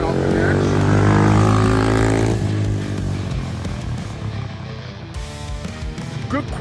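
A kids ATV four-wheeler pulls away, its small engine droning loud and steady before the pitch shifts as it moves off, with a hint of wind noise.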